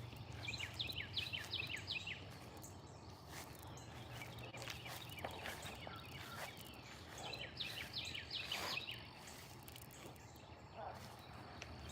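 Birds singing in a green yard in Philadelphia on a warm day. Soft, quick chirps come in scattered bursts at a distance over a low, quiet background hum.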